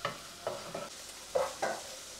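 Peppers hitting a hot pan, with intermittent stirring scrapes and soft sizzling bursts, several short clustered strokes, close by and alone.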